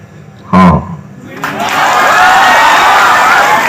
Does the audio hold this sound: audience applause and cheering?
yes